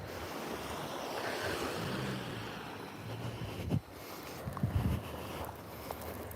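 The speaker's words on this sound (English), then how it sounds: "enjoy the sounds of the ocean" Ocean waves roll onto a beach in southeast Queensland on a winter afternoon, a continuous wash of surf with wind buffeting the microphone and a few brief knocks near the end.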